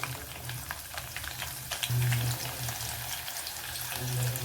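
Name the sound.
frying sliced onion in a pan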